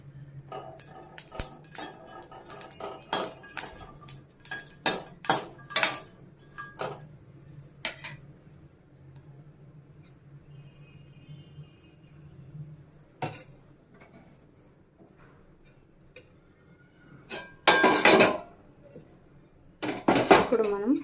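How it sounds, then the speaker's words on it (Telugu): A metal kadai clatters and clinks repeatedly as green chillies go in for a coconut chutney, sharp irregular pan and utensil knocks close by, with a quieter stretch before louder scraping bursts near the end. "ఫస్ట్ అయితే కడాయి పెట్టేసుకొని దాంట్లో పచ్చిమిర్చి యాడ్ చేద్దామండి."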